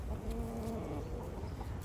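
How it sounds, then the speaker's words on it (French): Hens, including blue ones, cluck and murmur close by in a yard, a busy continuous chatter of fowl with no one talking. "Et on a les poules qui sont juste là, en arrière-plan les bleus arminés."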